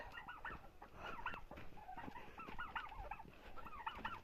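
Chickens, including a rooster, cluck repeatedly close by in a farmyard with turkeys, a busy flock making short overlapping calls with a few louder squawks, no talking.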